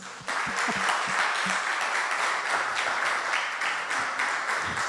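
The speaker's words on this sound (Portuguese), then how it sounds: "uma salva de palmas para vocês" An audience at a missionary congress bursts into applause, a dense steady wash of clapping that starts abruptly and holds even, with a few low thumps at the start.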